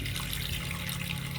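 Water pours steadily into a cooking pot as ingredients are prepared for a home-cooked dish, a continuous close splashing rush with no pauses.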